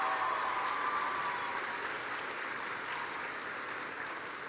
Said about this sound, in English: Please give a round of applause to all of your teachers, your principal, your administrators for all of their hard work.